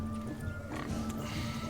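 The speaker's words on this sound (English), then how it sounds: "I'll show these imbeciles how one chases a porker." A pig from The Witcher 3 video game grunts and oinks briefly over a steady hum of ambient game sound.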